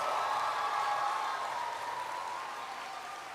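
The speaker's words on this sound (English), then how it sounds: "let's give them a lusty round of applause." An audience applauds medical science graduates at a university convocation ceremony in Guyana, a steady distant wash of clapping that slowly fades over a few seconds.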